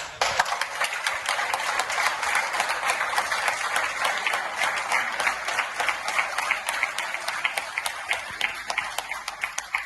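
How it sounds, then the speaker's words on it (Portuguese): Sustained applause from a large audience at a political gathering in Santarém, dense steady clapping continuing evenly for the full stretch without letting up. "a toda a equipa eu queria deixar um grande aplauso"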